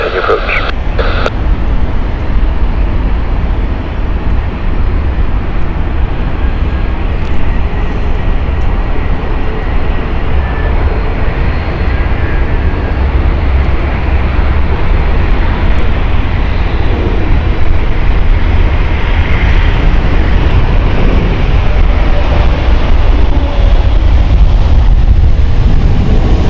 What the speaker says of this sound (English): this is the Cathay Pacific Hong Kong flight, Airbus A350 1000